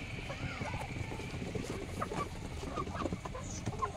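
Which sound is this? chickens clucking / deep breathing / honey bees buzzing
chickens clucking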